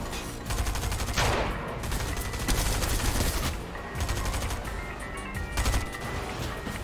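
Rapid bursts of gunfire in the video game Fortnite, loud and close, firing in several clusters with short pauses between volleys.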